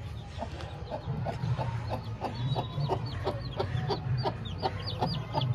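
An Aseel hen with her chicks on a rooftop, the chicks cheeping in a rapid stream of high peeps over soft low clucking, close by, with no talk.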